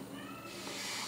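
A domestic cat meows and then hisses, a short close vocal burst turning into a breathy hiss that fills the second half, with no talking over it.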